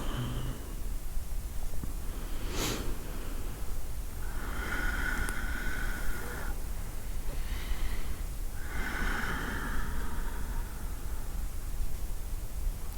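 Slow, deep breaths taken during a yoga session, with a few long airy inhales and exhales rising gently above a steady background hiss, close and quiet, no talking.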